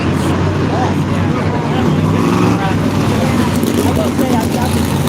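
Race cars circle behind a pace truck at a Lancaster race track, a loud continuous engine rumble and roar with a commentator's voice over it.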